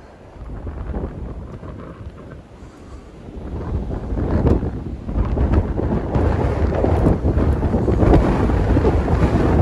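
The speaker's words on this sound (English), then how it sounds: "A lot of wind off of the lake right here." Strong wind blowing off a lake beside the University of Regina campus on a spring morning, a steady loud rumbling gust that buffets the microphone and builds gradually over the whole stretch.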